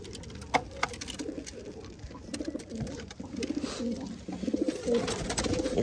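Pigeons cooing close by in a loft or coop, a steady chorus of low throaty coos overlapping, with a few sharp flutters and knocks mixed in.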